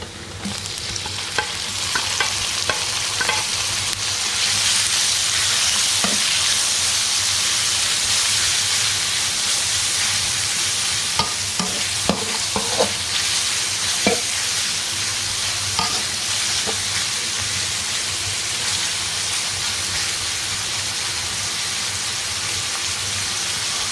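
Bacon and garlic frying in a pan, a steady loud sizzle running throughout with scattered pops and crackles and occasional scrape of stirring, no voices.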